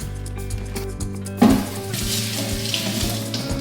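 Kitchen tap running water onto a silicone sponge at the sink, a splashing gush that starts after a short musical bit and continues steadily.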